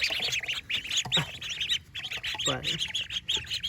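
Birdlike chirping and calls on a farm, probably the ducks, come in rapid repeated bursts, fairly loud and busy, with a brief spoken word partway through.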